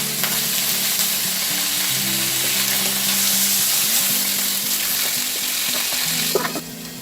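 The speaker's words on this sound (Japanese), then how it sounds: "はい、また違う面を焼いていきます。" Spare ribs sear loudly in a covered waterless pot, a dense steady sizzle and crackle that fills the whole stretch, close and even, with a brief clatter near the end and no voices.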